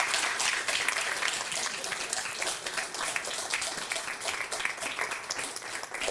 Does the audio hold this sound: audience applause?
yes